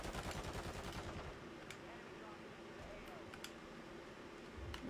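Rapid automatic gunfire in a shooter video game, a dense burst of shots at the start followed by scattered fainter bangs and background game noise.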